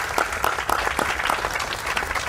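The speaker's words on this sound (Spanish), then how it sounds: "Un aplauso por él." Applause from attendees at a decentralized municipal council session after a unanimous approval, a short burst of many hands clapping close and steady, with no talk over it.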